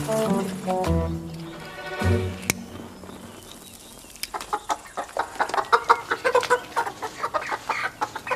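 Chickens cluck and squawk nearby, a loud burst at first, then a quieter stretch, then a rapid run of short clucks toward the end, with no talking.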